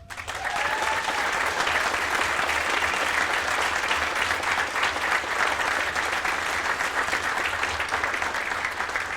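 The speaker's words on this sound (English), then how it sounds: "Please give a round of applause to my staff," At a chamber of commerce dinner, a crowd gives sustained, loud applause for staff members, thick continuous clapping holding steady throughout with no voices over it.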